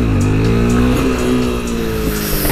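A motorcycle engine is throttled up in a loud, close, continuous drone whose pitch rises and holds steady, without talk.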